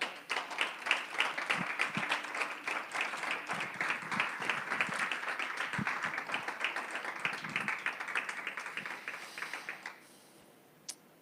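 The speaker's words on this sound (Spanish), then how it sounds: "Dar un aplauso al Señor." A church congregation claps together in a close, fairly loud burst of applause that runs for about ten seconds, then drops off quickly into near quiet with one last stray clap.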